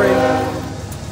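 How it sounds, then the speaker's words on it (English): A train passes close by a workshop during Chevy truck bed rust repair, its horn sounding loudly with sustained tones at the start and fading over about a second, with rumbling rail noise beneath and no talk. "Don't mind the train, that's free."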